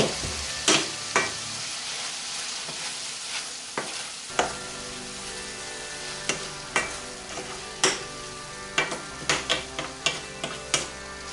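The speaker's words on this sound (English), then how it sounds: "Take this lid off periodically and stir these up." Shakshuka of fresh tomatoes and onions simmering in a pan, a soft steady sizzle broken by sharp clinks and scrapes of a utensil stirring, close and fairly quiet.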